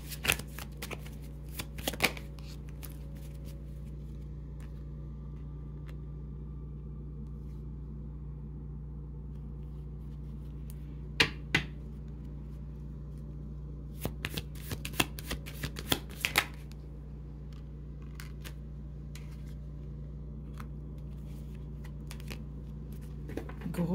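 Tarot cards being shuffled by hand, several crisp riffling bursts at the start and again in the middle, over a steady low room hum with no talk.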